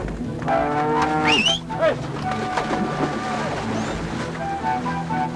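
Cattle moo on a farm in rural South Africa, with several long, loud lowing calls rising and falling across the clip over a soft outdoor background.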